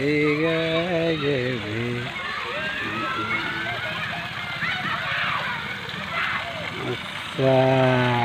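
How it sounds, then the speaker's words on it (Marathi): Water runs steadily from a borewell tap in a continuous rushing stream through the middle, with voices talking over it at the start and end. "बंद नाही करायचं नळ, काही चालूच द्या."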